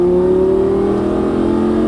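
A Lamborghini Gallardo Superleggera LP570-4 engine pulls hard on throttle, a loud, close rising rev with strong harmonic whine climbing steadily through the short stretch.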